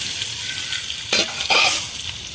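Vegetables sautéing in a pan for Bengali kosha, a steady sizzle and fry with two brief louder bursts of stirring or pan contact near the end.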